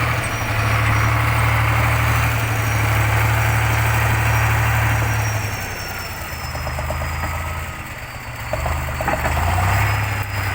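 A T-150 tractor fitted as a bulldozer rumbles with a loud, deep diesel drone while widening an old village road, the engine load dipping and rising as it works nearby.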